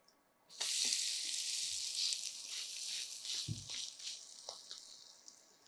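Pepper adai is flipped on a hot pan. After a quiet moment the batter bursts into a loud, steady sizzle, with a dull knock of the turner partway through and scattered crackles as the hiss slowly fades.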